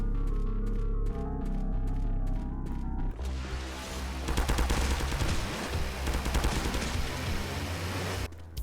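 Gunfire in The Happyhills Homicide horror video game as police are shot, rapid bursts of shots over a loud, dense game soundtrack, with the firing growing heavier midway.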